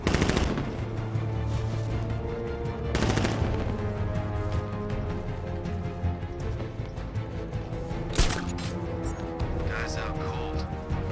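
Bursts of rapid gunfire from shooting at a target in Batman Arkham Knight, dense and continuous over rumbling game effects, with heavy impacts near the start and end.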